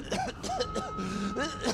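Several rough coughs from a Resident Evil 7 game character over a steady background bed, with a few voiced, strained sounds between bursts.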